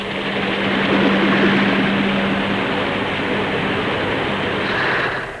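A Bristol 192 twin-engine helicopter flies past at an air show, giving a dense, steady roar of engines and rotors with a low droning hum, fairly loud and sustained throughout.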